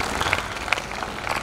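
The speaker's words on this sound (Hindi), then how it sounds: "तो एक बार तालियां कूट लो।" Audience clapping at a Hindi comedy poetry recital, a steady mass of hand claps running through the whole short moment with a few sharper peaks, moderately loud and without talk over it.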